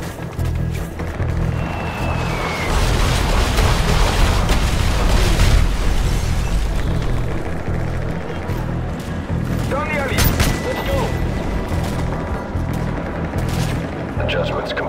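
Artillery rounds exploding in Call of Duty gameplay, a heavy sustained barrage of deep booms and rumbling blasts with gunfire cracks layered over it, loud and continuous.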